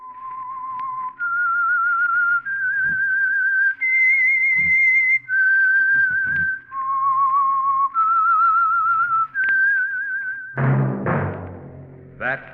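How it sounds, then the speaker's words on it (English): A whistled theme tune for The Whistler radio mystery program, a clear solo melody of sustained, steady notes stepping up and down, loud and alone, ending as a brief orchestral sting comes in. "That whistle is your signal for the Signal Oil program, The Whistler."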